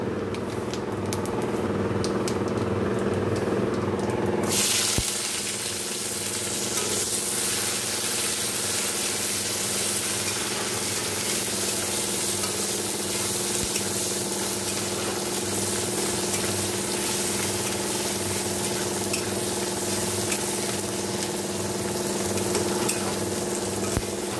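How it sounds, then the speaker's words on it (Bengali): Cumin seeds and dried red chillies sizzle in hot oil in a kadai, a loud, continuous crackling fry that starts abruptly a few seconds in and holds steady with faint stirring clicks. "আমি দেখো কড়াইতে জিরে শুকনো লঙ্কা ফোড়ন দিয়ে দিয়েছি"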